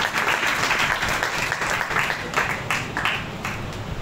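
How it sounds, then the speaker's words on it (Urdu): A church congregation claps and applauds during an Urdu/Hindi worship service, a dense steady wash of many hands filling the room with a few louder bursts, continuing throughout without a break. "تالیاں بھی دے رہے ہیں۔"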